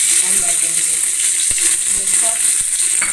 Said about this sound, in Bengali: হাঁড়ির মধ্যে ঘি দিয়ে দিয়েছি আর এদিকে গরম মশলা তেজপাতা আর এলাচ